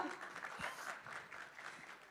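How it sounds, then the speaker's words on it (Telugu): Audience at a lively Telugu comedy speech event featuring Chiranjeevi and Anil Ravipudi bursts into brief, steady applause, a dense wash of many hands clapping at moderate distance with crowd murmur underneath. "చప్పట్లు ఫర్ ఊహా."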